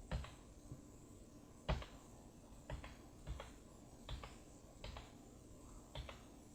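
A handful of separate key presses on a computer keyboard, each a sharp close click spaced roughly a second apart, with a quiet background between them and no talking.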